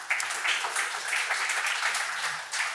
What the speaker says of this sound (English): Round of applause for our neurons.